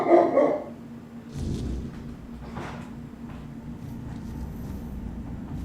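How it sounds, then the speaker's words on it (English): A Great Pyrenees dog barks loudly, with a strong close burst at the start followed by quieter, scattered noises over a steady background. "Oh, the dog. I know, he is so loud. He's a great Pyrenees."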